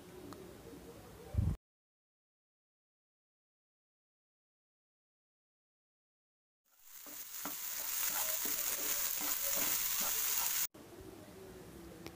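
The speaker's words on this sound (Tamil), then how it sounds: "இப்போ இந்த வெங்காயம் நல்லா பொன்னிறமாக செவக்கிற அளவு வதக்கி விட்டுக்கோங்க." Onions sizzle and crackle in a hot pan for a few seconds, with occasional stirring scrapes, after a stretch of silence; a quieter background returns afterward.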